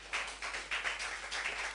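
Applause at a Church of Pentecost council meeting: hands clapping in soft, repeated bursts, fairly faint and with no voices.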